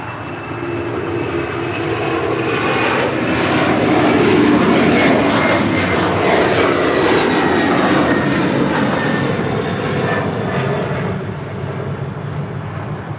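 A Delta airliner lands on runway 25 left at LAX, its engines roaring loud and continuous throughout, swelling toward the middle and staying strong to the end, with no voices over it.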